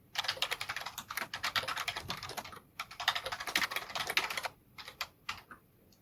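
Fast, quiet typing on a computer keyboard, with rapid clustered keystrokes in bursts, short pauses between them and a final few separate taps, close and clear without any speech.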